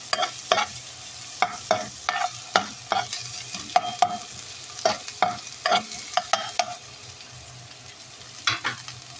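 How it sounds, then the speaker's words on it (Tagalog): Garlic and onion sautéing in a pan until golden brown, with repeated sharp scraping strokes of a utensil over a steady low sizzle, no voices. "Sauté na natin yan."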